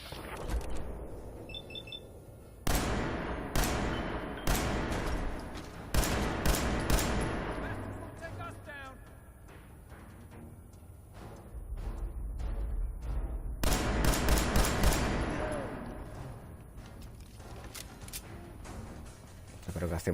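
Scattered bursts of gunfire in Fallout 4, several separate volleys and single shots spread out over the clip with quieter gaps between, while a voice speaks beneath them.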